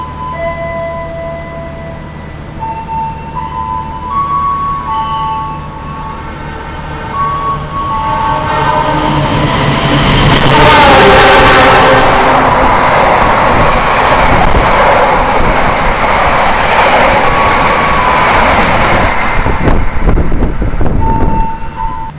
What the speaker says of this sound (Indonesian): akan segera lewat kereta api Argo Lawu yang menyusul kereta api Majapahit lagi